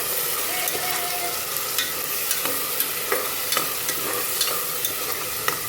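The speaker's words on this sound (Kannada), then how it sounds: "ಇದಕ್ಕೆ ರುಬ್ಬಿಟ್ಕೊಂಡಿರೋ ಮಸಾಲೆನ ಹಾಕೋಣ. ಹಾಕಿ ಚೆನ್ನಾಗಿ ಫ್ರೈ ಮಾಡ್ಕೋಬೇಕು." Ground masala paste fries in oil in a pan, a steady loud sizzle with regular light scraping taps as it is stirred.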